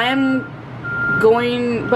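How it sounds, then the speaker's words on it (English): Garbage truck passing close by, its steady reversing beeps sounding over engine rumble, with a voice talking underneath. "the garbage truck is passing by"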